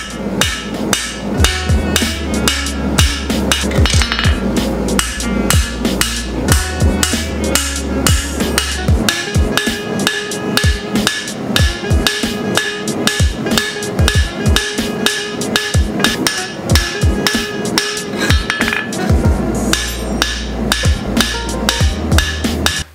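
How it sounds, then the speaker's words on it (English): A hammer forges the bevels of a sword blade with a long, steady run of loud, ringing metal blows, closely spaced and continuing without pause. "So we forged the last bit of the bevels on the sword."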